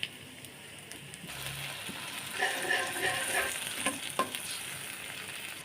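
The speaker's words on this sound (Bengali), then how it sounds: "এবার আমি আদা বাটা দিয়ে দেব" Ginger paste hits hot oil with fried shrimp and onions, giving a steady sizzle that swells and crackles more after a stir, moderately quiet and close, with no talking.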